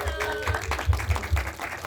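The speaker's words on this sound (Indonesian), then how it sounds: "Tepuk tangan dulu dong." Brief burst of audience applause at a press conference for a web series, scattered clapping with some low thumps, moderately loud and mixed with faint crowd murmur.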